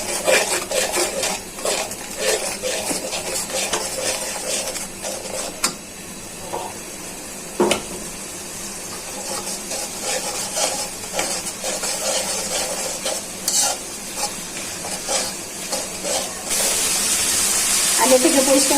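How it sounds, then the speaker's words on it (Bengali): Spice paste with garlic and salt being stirred and fried in a pan for a jute leaf and lentil dish, with scraping spoon clinks, frying hiss and a louder sizzling burst near the end. "এখন ভালো করে মশলাটা কষিয়ে নিব।"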